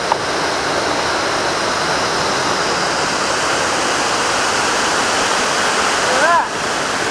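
Waterfall heard from close range, a loud, steady roar of rushing and splashing water that stays constant throughout, with a brief whistle-like tone near the end.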